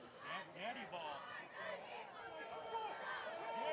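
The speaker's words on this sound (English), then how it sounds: "I think you can hear the boos on the air" A large crowd at a high school football game boos and jeers continuously in the distance, a sustained mass of voices with a commentator speaking faintly underneath.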